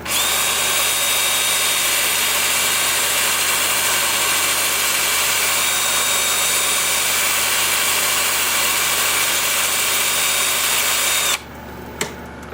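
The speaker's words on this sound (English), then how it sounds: "Then with the lathe spinning forward at 350." A wood lathe spinning forward at 350 rpm on a small turned piece gives off a steady, loud motor whir and broadband hiss that runs unbroken for about eleven seconds, then cuts off abruptly, leaving near silence and a faint click.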